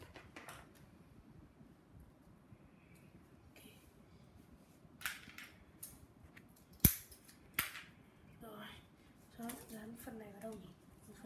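A homemade spider web shooter fires with a few sharp snapping clicks among quieter handling noises, while a person talks nearby.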